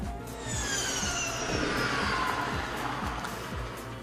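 A Ferrari SP90 Spider's 1000 HP hybrid powertrain, with a rhythmic low pulsing and rising whine-like tones sweeping above it, steady and moderately loud.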